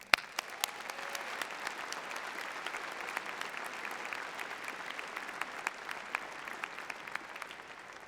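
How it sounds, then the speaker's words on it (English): A large audience at a high school graduation ceremony claps steadily, a dense, even patter of many hands at moderate distance that carries on without a break and with no talk over it. "Let's have a round of applause for all of us."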